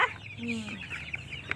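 A chicken clucks nearby in short low bursts amid outdoor rural background noise, with a person's voice and scattered clicks mixed in.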